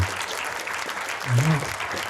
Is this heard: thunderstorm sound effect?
no